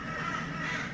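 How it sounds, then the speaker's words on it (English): Crows cawing outside, a steady noisy chorus of harsh calls heard from indoors, continuous across the moment. "There's like a murder of crows around."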